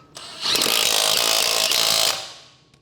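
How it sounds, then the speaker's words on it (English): A power impact tool whirs in one steady burst of about two seconds, driving a 17mm socket to tighten lug nuts on a Honda Civic wheel, close and loud, then winding down. "Use a 17mm socket to install the lug nuts."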